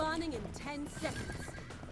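A horse mount in the video game Paladins neighs loudly in a long, wavering whinny that rises and falls, followed by a softer whinny and faint clip-clop hooves, with a voice low underneath.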